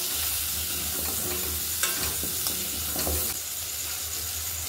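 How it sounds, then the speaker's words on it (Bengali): Pointed gourd pieces fry with turmeric and salt, giving a continuous near sizzle with occasional pops and stirring knocks, without speech. "এই পটলগুলোর মধ্যে একটু হলুদ আর একটু লবণ দিয়ে ভালো করে ভেজে নেব পটলগুলোকে।"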